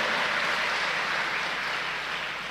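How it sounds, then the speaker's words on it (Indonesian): A large audience at the UNNES 2022 student orientation event applauds steadily to welcome the guest Habib Husein Ja'far Al Hadar. The clapping is a dense, even wash that fades slightly toward the end. "berikan tepuk tangan yang meriah untuk Habib Hussein Jafar Al-Hadar S.Phil IMAG"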